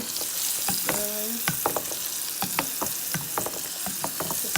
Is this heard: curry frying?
yes